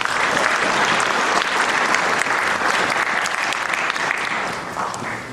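Sustained applause from an audience at a church pension members' association inauguration ceremony, honoring board members; steady, dense clapping throughout, tapering slightly at the end.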